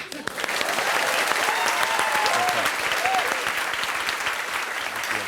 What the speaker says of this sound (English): Pause for laughter or applause.